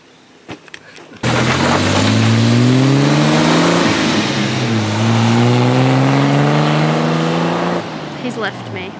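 A vehicle fitted with a new exhaust muffler starts up loudly and drives off, its engine note rising and falling through gear changes before cutting out near the end.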